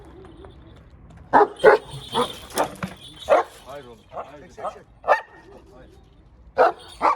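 A large Anatolian Shepherd dog barks in a run of sharp yips and barks, close and loud, while a person speaks between them.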